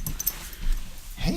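An old dog gives a brief, soft whimper close by, faint against a low background hum with a hint of a voice nearby.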